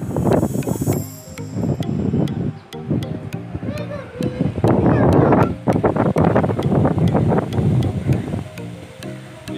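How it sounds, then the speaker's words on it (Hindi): Strong wind outdoors on a rooftop buffets the microphone with a loud, continuous roar that swells in repeated gusts for the whole stretch, with faint voices underneath. "इतनी तेज़ हवा चल रही है"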